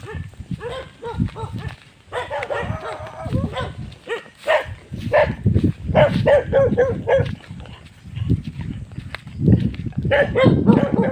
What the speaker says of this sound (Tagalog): Daming aso nangahabol.